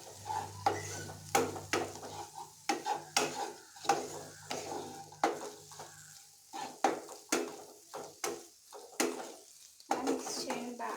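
A spoon stirs a food mixture in a pan while making pasta at home, producing repeated sharp scraping clinks in an irregular rhythm, close and fairly loud, over a faint sizzle.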